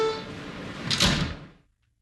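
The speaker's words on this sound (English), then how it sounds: "Stand clear of the closing doors" Subway train doors sliding shut with a brief thud, preceded by a steady hum and fading quickly into silence.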